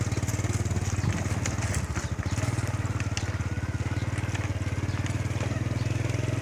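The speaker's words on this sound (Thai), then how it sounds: "ขึ้นรถ โอเคครับ วันนี้ ขี่เบฟเก่าๆไปครับ" An old Honda Wave motorcycle being ridden, its small engine putting out a steady close pulsing drone throughout.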